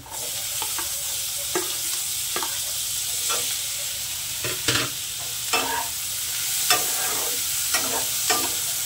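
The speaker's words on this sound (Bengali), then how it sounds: "হালকা করে দেখুন আমি টমেটোটা ভেজে নিয়েছি।" Chopped tomatoes frying with onions in a pan, a constant loud hiss with a low hum beneath and repeated spatula scrapes and knocks at irregular intervals, no one speaking.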